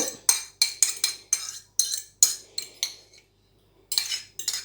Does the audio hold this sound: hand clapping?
no